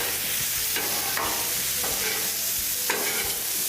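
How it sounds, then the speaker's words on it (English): Sirloin steak tips coated in olive oil, salt and pepper are tossed across a hot Blackstone griddle, with crisp scraping spatula strokes over a steady sizzle and no voices. "So we're gonna quickly toss all of this together."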